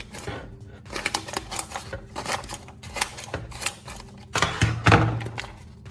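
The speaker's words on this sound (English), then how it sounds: "Hold a sheet of paper and attempt a clean slice." Dull, worn pruning shears are forced through a sheet of paper, giving repeated loud, close rasping and crunching bursts as the blades drag and tear, with brief pauses between strokes and no speech.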